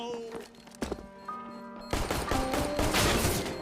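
Gunfire in a video game, a Glock pistol, cracks out as scattered shots at first, then a dense burst of rapid fire in the second half, mixed with game sounds and background music.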